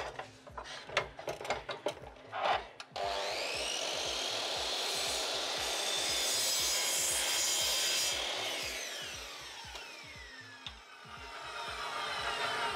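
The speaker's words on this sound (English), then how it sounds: "Now I can cut it just like a normal aluminum piece." A saw cuts through an aluminum piece after a few short preliminary strokes, then settles into a long continuous high whine of blade on metal that fades near the end.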